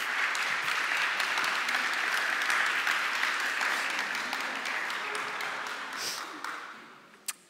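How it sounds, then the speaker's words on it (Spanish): Audience at a congress opening session applauds steadily and loudly for several seconds before the clapping fades out near the end. "Sí, podéis aplaudir."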